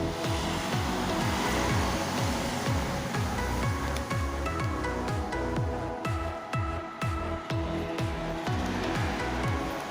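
A steady, loud whooshing blower runs throughout, drying a freshly applied 3M sticker decal, with a continuous airy roar and faint rhythmic pulsing underneath.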